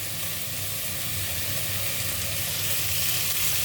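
Onions, green chillies and garlic sizzle and fry in a pan, a dense, steady hiss of hot oil that holds at an even level throughout with no voices over it.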